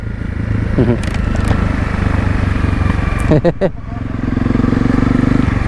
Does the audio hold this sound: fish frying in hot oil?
no